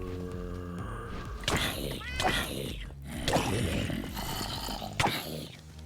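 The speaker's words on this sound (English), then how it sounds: "I just heard a cat." Cat meows in a Minecraft-style video game, a few short, mid-loud calls heard under a player's talking and game noise.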